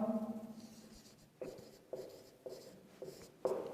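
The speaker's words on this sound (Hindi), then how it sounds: "देखिए, मैं एक सेंटेंस लिखता हूं।" A pen writes out an English sentence, heard as a series of short, scratchy strokes in an uneven rhythm, close and fairly quiet with no talking over it.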